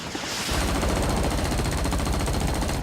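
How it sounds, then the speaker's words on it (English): Rapid, continuous automatic gunfire from a helicopter's guns in the Vietnam War video game Rising Storm 2: Vietnam, a loud unbroken rattling burst close up that runs for the whole stretch with no speech. "as a pilot, you get a few guns to play with, so you can actually fire them"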